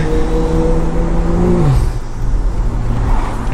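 A tuned Stage 2+ BMW engine drones steadily while driving, with a falling tone as the revs drop, loud and close with road noise and no talking.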